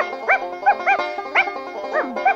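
An excited young puppy yaps in a rapid series of about seven high, squeaky barks, close and loud with no talk over them.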